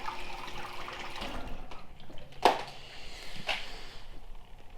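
Cleaning fluid flows through a boat engine with a continuous watery rush and gurgle, broken by a couple of louder splashy bursts.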